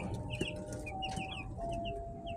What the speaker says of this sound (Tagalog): day 6 ng mga broiler chicken natin